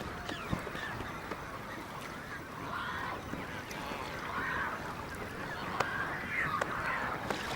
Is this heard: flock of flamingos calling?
yes